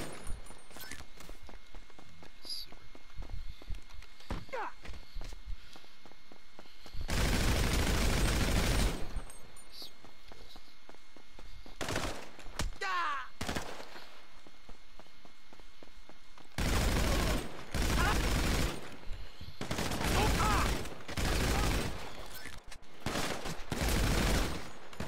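Gunfire in the online action game GTA Online comes in dense bursts of rapid automatic shots, loud and close, alternating with quieter stretches of background game noise.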